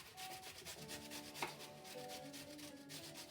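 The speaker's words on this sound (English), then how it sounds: "get your potatoes grated" Potatoes being hand-grated for hash browns, a quiet, rapid series of rhythmic rasping strokes against a grater, close and alone.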